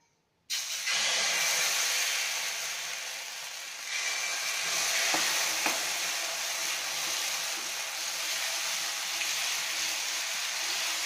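Dosa batter cooking on a hot pan gives a loud, steady hiss that starts abruptly after a brief silence and holds for about ten seconds, with a couple of faint clicks and no talk.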